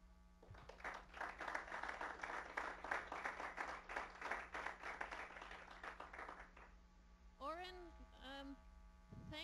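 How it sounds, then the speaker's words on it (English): An audience claps after a lecture on the sustainability transition, a dense steady patter over a constant electrical hum, fading out and giving way to a few voiced sounds near the end. "I don't know if you can hear the clapping that's going on here."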